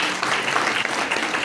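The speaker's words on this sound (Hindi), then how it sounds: "एक बार जोरदार तालियां।" A crowd at a Vestige network marketing team meeting breaks into loud, close clapping, a brief, dense burst of applause with no speech over it.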